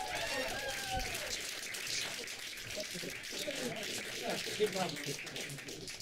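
Audience applause for two performers at a roast battle comedy show, broad steady clapping and cheering filling the room for several seconds, with a voice talking over it.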